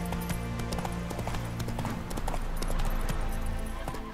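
Hoofbeats of a galloping horse in The Witcher 3 video game, a steady rapid clip-clop rhythm running throughout over a dense, loud backdrop of game music and ambience.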